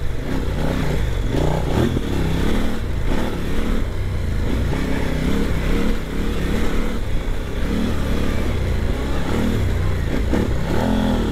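A KOVE 800 Adventure motorcycle accelerating hard, its engine loud and close throughout with steady revving and clattering mechanical noise, held mostly in second gear.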